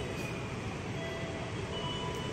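An eight-car commuter train bound for Bogor rumbles steadily into Cawang station, a continuous low rolling roar with no talk over it.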